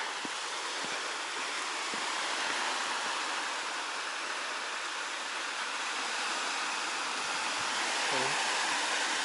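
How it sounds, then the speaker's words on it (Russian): Steady broadband rushing of Baltic Sea surf washing on the shore at Zelenogradsk, continuous and fairly close, with no voices over it. "это море шумит, а не дождь"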